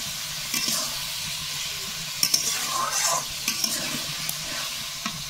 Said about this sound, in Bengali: এই মাংসটা কষাতে এই মশলাটা কষানো হয়ে যাবে।